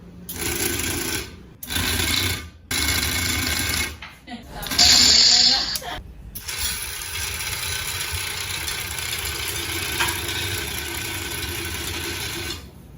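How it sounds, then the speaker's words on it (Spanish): A small motor in a lever module runs automatically forward and backward, whirring and buzzing in bursts separated by short pauses. The motor noise shifts as it changes direction, with a brief louder stretch midway. "el motor va a empezar a trabajar de forma automática hacia adelante y hacia atrás"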